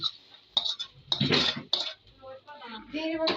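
Fried shrimp being stirred into fried cauliflower in a pan: a few sharp metal utensil clinks and scrapes against the pan, close and uneven, with some background voice between them.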